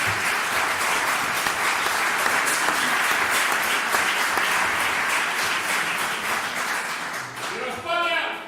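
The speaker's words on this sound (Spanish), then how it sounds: "Me emocionan sus aplausos" Dense, sustained applause from a large audience fills the hall at a lecture on what America owes Spain, loud and even throughout, fading slightly before a voice briefly speaks at the end.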